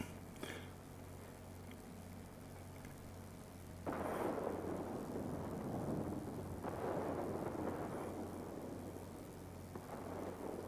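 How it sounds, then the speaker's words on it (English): A heavy thunderstorm rolls through World of Warplanes as dense, rumbling rain-and-thunder noise that swells abruptly about four seconds in and stays loud and continuous, with no voices. "The storm is too heavy."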